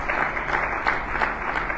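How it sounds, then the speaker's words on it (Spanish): A church congregation applauding, a dense, continuous wash of many hands clapping at steady loudness throughout, with no speech over it. "¿Cuántos nos aplauden en el nombre del Señor?"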